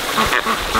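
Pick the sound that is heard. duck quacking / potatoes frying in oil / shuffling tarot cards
duck quacking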